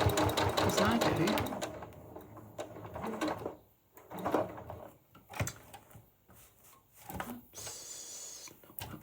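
Sewing machine stitching a quilted pouch, a dense rapid rattle loud at first, then quieter intermittent runs as someone talks over it.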